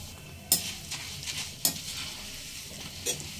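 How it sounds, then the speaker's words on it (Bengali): Flattened rice (chira) frying in hot oil for homemade chanachur: a continuous sizzle with a few sharp scraping or stirring clatters spaced through it, close and fairly loud, with no talking. "এবার চিড়ে ভেজে নেব।"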